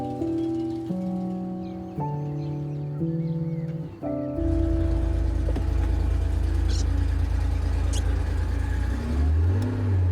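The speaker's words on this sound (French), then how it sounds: "Ce côté qui pétarade au départ, on sent qu'on met en route le monstre" A carburetted car engine sputters into life and then revs hard, a loud, sustained roar close by that follows a short run of steady tones.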